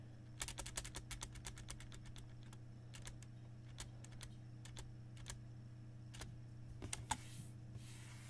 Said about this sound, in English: My own keyboard is lagging.